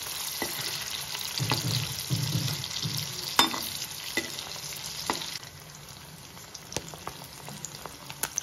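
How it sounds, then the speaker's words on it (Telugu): Pieces of salted dried fish fry in a pan over a medium flame, giving a steady close sizzle broken by sharp clicks and taps as they are turned, with no talking. "మీడియం ఫ్లేమ్ లో పెట్టి ఫ్రై చేసుకోండి। అటు ఇటు తిప్పుకుంటూ చక్కగా ఫ్రై అయిపోతాయి।"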